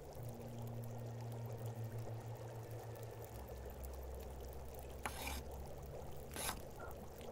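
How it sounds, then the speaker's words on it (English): A character in The Long Dark drinks water, heard as a soft, steady liquid pour or trickle under a low ambient hum, with a couple of brief faint clicks near the end. "Drink a little bit of water."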